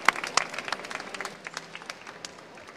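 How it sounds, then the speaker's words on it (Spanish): A small audience at a book-fair stand gives a short round of applause, a few sharp claps at first, then scattered uneven clapping that thins out over under three seconds. "Un aplauso para Claudia."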